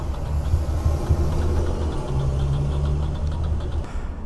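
A Ducati Monster motorcycle engine runs roughly after sitting unridden for a week. The close, uneven low rumble carries a faint knocking pulse, and it drops away near the end.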